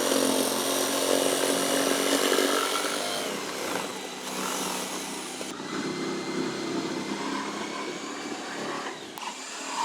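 A power tool cuts a slot for hoses while building a workshop inside a metal building, a loud continuous whining roar that eases slightly partway through and runs alone until a brief knock at the end.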